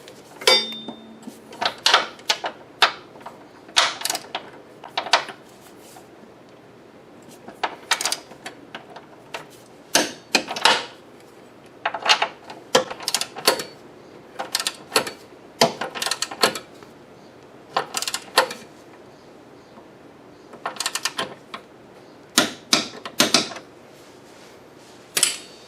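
A wrench tightening two front suspension bolts to 44 foot-pounds on a 2001 Lexus IS300, heard as repeated short bursts of ratchet clicking separated by pauses, fairly close, with no talking.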